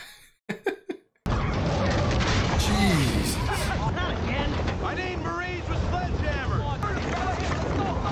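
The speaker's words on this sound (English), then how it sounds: "It is windy. That wind is crazy." Strong wind roars in a TV war-drama scene, a sustained loud gusting rush after a brief quieter opening, with voices talking over it.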